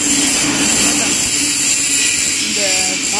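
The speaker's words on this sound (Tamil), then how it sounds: "இந்த பவர் ஸ்ப்ரேயர் டிராக்டர் மவுண்டிங்கில் வீடியோவில் ட்ரைவ் எடுத்து பண்ணிட்டுருக்கோம்" A tractor-mounted power sprayer runs with a steady, loud broadband hiss and a drone like a jet engine, holding constant for the whole stretch, with a brief voice near the end.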